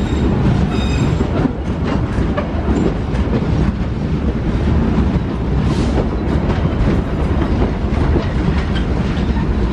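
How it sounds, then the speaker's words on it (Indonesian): A parcel train pulls into Leles station in Indonesia, loud and close, with steady clickety-clack of wheels over rail joints, rumbling wagons and faint wheel squeal. "Ya, keretanya sudah merapat stasiun Leles."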